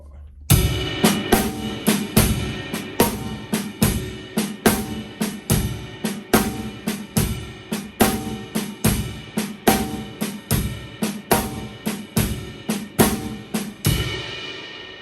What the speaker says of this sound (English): with the shuffle beat, that would sound like this